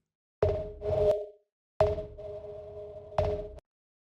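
Synth bass patch built in Serum in an Afro house style, played as three separate held notes with sharp attacks and a buzzy tone, alone with silent gaps between them.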